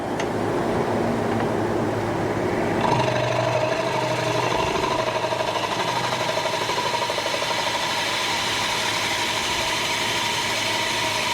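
A wood lathe turns a wood and resin flower bowl, giving a loud, continuous mechanical drone with a rough grinding texture that shifts slightly in tone partway through and runs steadily throughout.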